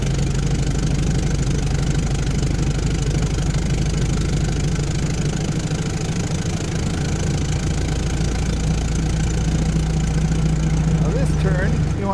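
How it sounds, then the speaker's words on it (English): Car engine at full throttle climbing a hill on a drive through Paris, a steady loud droning roar with constant low rumble and road vibration from start to finish inside the cabin. "Full throttle up the hill."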